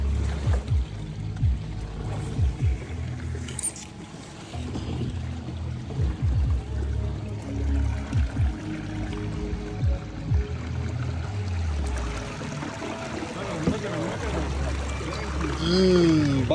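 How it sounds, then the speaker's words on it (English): A small canoe paddled on a river, with soft water swishes, trickles and splashes against the hull, mixed with people talking and a low rumble near the end. "That's how you maneuver a little canoe like this."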